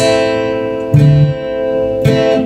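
A guitar sustains a high note, then two more notes are plucked in succession, bright and close.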